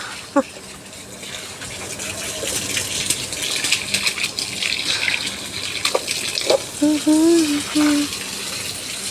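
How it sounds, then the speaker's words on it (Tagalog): Water gushes and splashes as it is poured over a mango tree in a yard, a continuous running pour with someone talking over it. "Paliguan ko ng tubig guys yung mangga."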